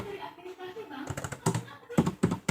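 Keys are typed on a computer keyboard during a Cisco Packet Tracer network exercise, giving bursts of quick close clicks and taps. A person talks over the typing.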